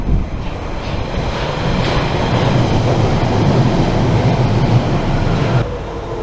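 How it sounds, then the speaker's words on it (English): A London Underground Central Line train rumbles steadily and loudly for several seconds, a dense mechanical roar that drops off abruptly near the end. "This train is now ready to depart."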